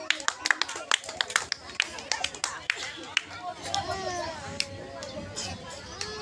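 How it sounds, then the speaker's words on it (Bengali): Scattered hand claps from a group at a children's spoon-and-marble race game, sharp irregular bursts over lively kids' chatter and shouting, fairly close. "দাও তালি দাও দাও"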